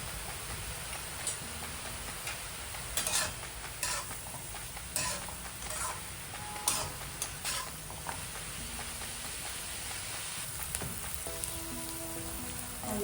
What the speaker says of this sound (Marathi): कांदा आपण चांगला फ्राय करून घेऊया